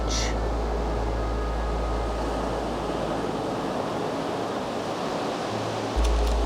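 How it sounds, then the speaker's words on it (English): Ocean waves rolling in on a beach make a steady, broad surf wash that holds at one level throughout, with a fresh surge building near the end and no talking. "I'll wait again for the waves to come in. There's a wave coming in"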